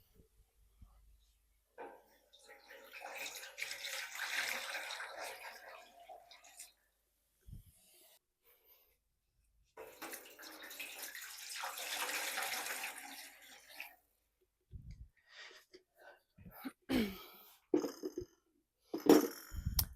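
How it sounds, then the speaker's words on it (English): Tap water runs into dye pans for dyeing superwash and non-superwash fibre, two long bursts of splashing filling with brief gaps between, followed by scattered knocks and handling sounds. "we've just added 9 cups of tap water in each of the pans"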